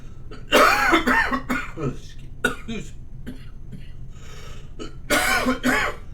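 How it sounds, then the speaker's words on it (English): Several harsh, chesty coughs in two bursts, near and loud, with quieter throat noises and breathing between them. "I'm going to pay particular attention today with this savage cough."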